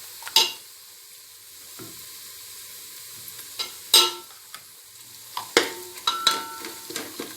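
Ghee sizzling in hot coconut oil in a pan for a Kerala-style chicken biryani, with close bursts of crackling and spattering that flare at intervals between quieter stretches of frying.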